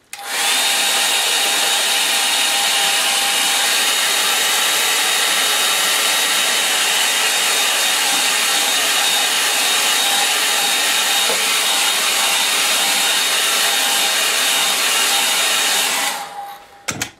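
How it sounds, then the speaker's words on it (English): A hair dryer runs steadily at high power with a constant whooshing roar and a faint whine, cutting off abruptly near the end. "I'm going to set the old hair dryer going"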